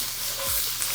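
Peppers, onion and garlic are stirred in a hot skillet, giving a brief, close sizzle with a soft scrape of the spoon, no voices.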